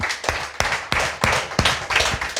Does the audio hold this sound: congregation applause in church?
yes